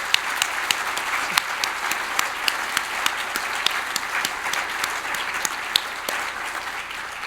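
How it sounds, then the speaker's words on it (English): An audience claps steadily for a group of young speakers at a conference, a dense, sustained applause with occasional sharper individual claps standing out, with no talking. "how about giving them a round of applause?"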